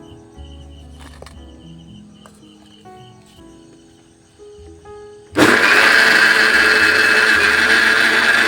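An electric mixer grinder grinding cumin, onion, garlic, dried chilli and ginger switches on abruptly after a quiet stretch of faint kitchen sounds, then runs with a loud, steady, close whirring roar to the end.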